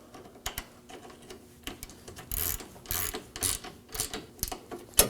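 A ratchet snugs a 10mm bolt on the AC condenser of a 2014-2020 Acura MDX, giving short bursts of crisp, close pawl clicks separated by brief pauses.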